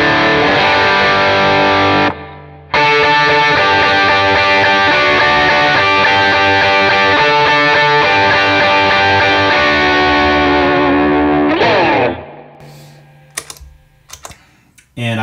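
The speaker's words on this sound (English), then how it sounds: "I really like the sound of the Morning Glory stacked again with the Klon side of the Optimist." Overdriven electric guitar through a Morning Glory pedal stacked with the Klon-style side of an Optimist overdrive, a loud continuous stream of chords and notes that drops out briefly near the start, then fades to softer plucked strums.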